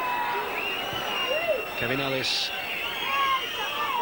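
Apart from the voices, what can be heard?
rugby crowd whistling and shrieking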